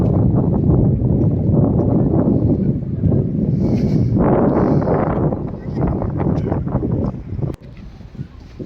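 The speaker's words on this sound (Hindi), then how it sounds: "हवा इतनी तेज़ चल रही थी कि अब आप इसमें हवा की आवाज़ भी सुन सकते हैं।" Strong wind blows at a high mountain lake near Tawang in Arunachal Pradesh and buffets the microphone with a loud, low rumbling roar that eases and returns.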